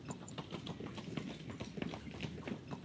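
Horse hooves clip-clop in a video game, a quick uneven patter of many steps on the ground, moderately loud and continuous with no voices over it.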